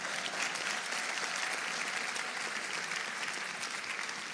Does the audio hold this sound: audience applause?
yes